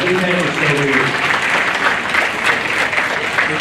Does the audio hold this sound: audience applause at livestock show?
yes